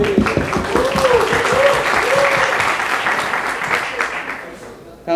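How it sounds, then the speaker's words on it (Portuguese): A small gathering bursts into a round of applause, steady clapping filling the space while a voice talks over it, fading out toward the end. "Uma salva de palmas."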